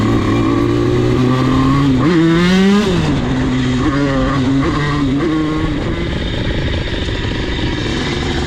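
A Derbi 77 motorbike engine idles loudly and steadily close by, with a couple of sharp revs rising and falling in pitch before settling back to a constant running drone.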